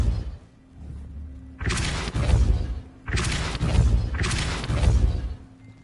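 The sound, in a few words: Depulso spell being cast in the video game Hogwarts Legacy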